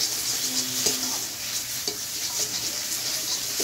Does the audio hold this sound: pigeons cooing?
no